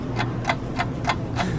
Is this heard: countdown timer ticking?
yes